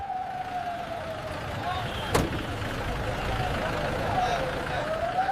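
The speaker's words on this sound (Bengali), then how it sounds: "10 মিনিটের মধ্যেই সাইরেনের শব্দ।" A police siren wails at moderate distance, its pitch rising and falling steadily beneath a constant background of traffic and crowd noise.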